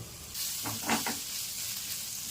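Ginger garlic paste fries in hot oil in a pan, giving a constant close sizzle and hiss with a brief swell of spattering in the middle.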